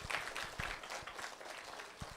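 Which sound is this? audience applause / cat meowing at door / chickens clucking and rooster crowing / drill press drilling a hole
audience applause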